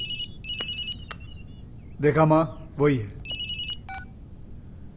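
A phone ringtone chirps in short repeated electronic bursts, two near the start and another pair later, with brief talk from a woman breaking in between them in the middle of the scene.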